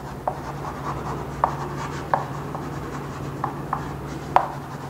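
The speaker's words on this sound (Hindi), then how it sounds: "तो इधर मैं लिखता हूं ग्राम एटॉमिक मास" Chalk tapping and scratching on a board during a chemistry lecture on the mole concept. It comes as faint, sparse strokes with a few sharper taps over a steady room hum, and there is no speech.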